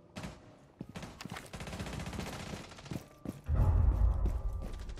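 Pistol fire in the tactical shooter Rainbow Six Siege: rapid sharp gunshot bursts, close and loud, giving way to a heavier, denser burst of firing near the end.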